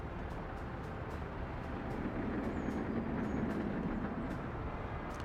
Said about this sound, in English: there's the steel exporting train coming back